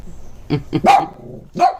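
An American Eskimo dog barks in a short burst of sharp, fairly close yaps, a few quick barks followed by a pause and one more.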